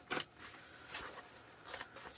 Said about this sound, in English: trim it down. With hopefully better scissors than I have